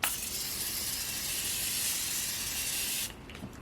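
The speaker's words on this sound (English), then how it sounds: "it does come out kind of like an aerosol, but with a fine mist at the same time" Makeup setting spray hisses from an aerosol can in one steady, loud, close burst of fine mist lasting about three seconds before cutting off to quiet.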